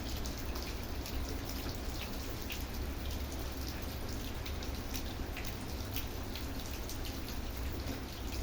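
Steady rain falls in Kuwait, heard from indoors as a continuous, even hiss of drops pattering on surfaces, with no pauses and no voices.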